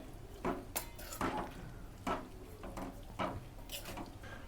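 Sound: stirring masala into bottle gourd and chana dal curry in pot

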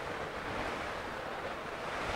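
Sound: rushing floodwater during Typhoon Ulysses in Bulacan

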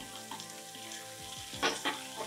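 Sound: chopped vegetables and tomato frying for vegetable omelet

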